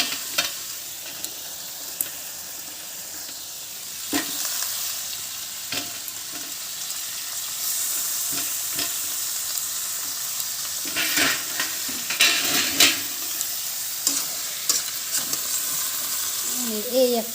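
Homemade desi chicken curry cooks in a pan with a steady sizzle and frying hiss, punctuated by scattered spoon scrapes and stirring clatter, close and fairly loud throughout.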